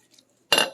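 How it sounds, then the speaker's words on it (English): A spoon clinks and scrapes in a pot while ingredients for a bean supreme are stirred together, one short, fairly loud burst after near silence. "Stir that all in."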